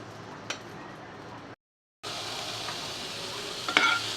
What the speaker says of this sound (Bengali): আর একটু পেঁয়াজ ভেজে নিচ্ছি।